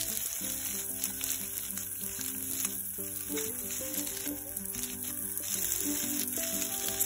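Onions and other ingredients for an Andhra-style cluster bean (goru chikkudu) curry hiss and sizzle in a frying pan, a faint, steady crackle running beneath a soft melodic music backing.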